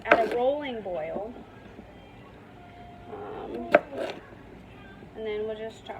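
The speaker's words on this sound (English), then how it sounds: "Now I'm chopping these into cubes as the water is at a rolling boil." A knife chops sweet potatoes into cubes on a board for homemade baby food, giving a few sharp knocks spaced out beneath a person talking close by.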